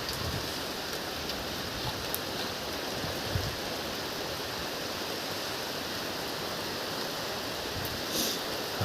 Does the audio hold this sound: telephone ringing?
no